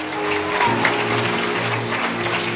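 A church congregation applauds amid cries of praise, a steady wash of clapping with a sustained low hum from music or a sound system running beneath, continuous for a couple of seconds.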